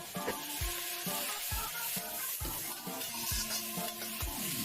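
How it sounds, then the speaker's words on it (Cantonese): Chinese celery sizzles and crackles in hot oil, with a spatula scraping and tossing it against the wok in a steady rhythm. "落油煸翹菜啊"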